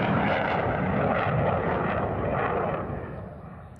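JF-17 fourth-generation fighter jets passing in an air force parade, a loud continuous broadband jet roar that holds steady and then begins to fade as they pass.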